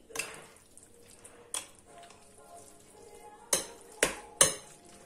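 A utensil stirs a light salad in a bowl, giving a few sharp clinks and scraping bursts spaced irregularly, with quiet shuffling between them and no talking.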